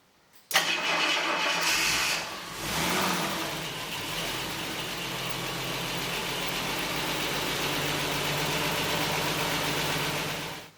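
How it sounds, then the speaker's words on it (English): A Ford Granada 2.8i engine cranks briefly and fires on the first try after standing for a couple of days, then settles into a steady, loud idle that runs on alone. "I thought that I just should show how easily this engine starts at first attempt"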